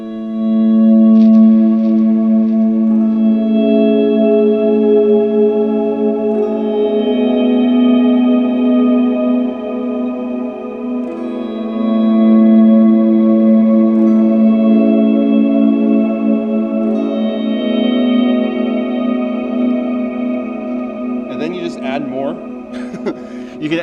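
Ambient electric guitar swells pass through an analog dual delay with dotted-eighth and quarter-note repeats and two washy reverbs, giving sustained, layered tones that bloom and fade steadily with loud, even volume and no voice.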